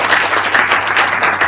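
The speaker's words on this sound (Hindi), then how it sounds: "ठोको ताली" An audience claps steadily and fairly loudly at a live insurance training session in Mira Road, with a dense continuous patter throughout and no speech over it.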